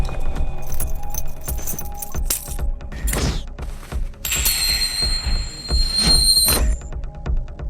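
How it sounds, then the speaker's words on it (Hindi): Car keys jangle and clink in a bright metallic rattle that swells and fades, with one longer, louder shaking burst near the end, heard alone without talk. "गाड़ी की चाबी।"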